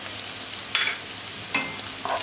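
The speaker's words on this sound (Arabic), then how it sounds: "خليهم يتقلاو ويخرجوا داك الريحه ديالتهم" Onion, tomato and spices frying in a pan give a quiet, steady sizzle, broken by a few short bursts of stirring and crackle, with no talking.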